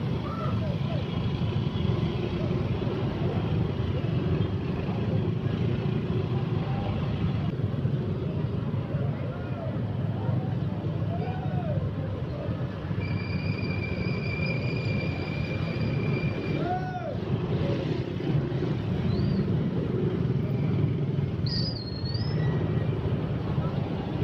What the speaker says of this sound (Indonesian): keramaian dan kemacetan